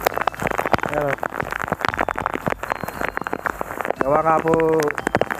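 Heavy rain pours during Super Typhoon Mawar as a steady wash under frequent talk, with a voice speaking over it throughout.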